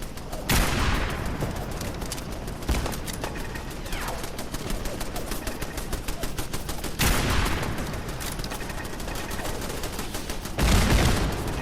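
Automated turrets in the game Fallout 4 fire in rapid bursts while defending a settlement, dense crackling gunfire with a few louder volleys and short pauses.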